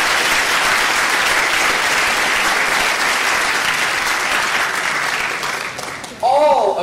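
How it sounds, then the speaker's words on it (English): Audience applause for Professor Charles Mullins at a college speech night, a long steady roar of clapping that thins out near the end before a voice briefly cuts in. "please give a round of applause to Professor Charles Mullins."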